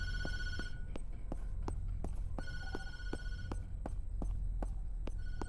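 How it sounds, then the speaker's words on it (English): An old telephone rings repeatedly in a dark room in the horror game Tattletail, with sharp periodic bell strikes over a steady low hum. "Phone's ringing."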